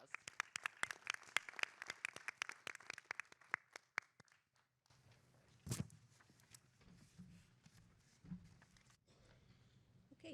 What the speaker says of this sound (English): Let's give Winston one more round of applause.